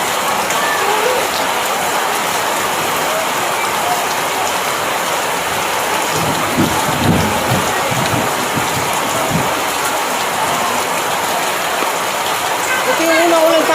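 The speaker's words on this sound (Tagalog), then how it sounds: "Ito yung unang ulan sa amin." Steady heavy rain, the first rain of the season, pours down, a dense continuous hiss of drops on surfaces, with a few faint voices murmuring underneath.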